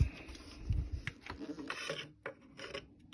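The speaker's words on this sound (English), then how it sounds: "Right, I'm going to try and undo a few of the bolts." A ratchet with an 11mm socket works on the exhaust manifold bolts of a BMW 3-Series E46, giving close, faint mechanical clicking and scraping in short uneven bursts.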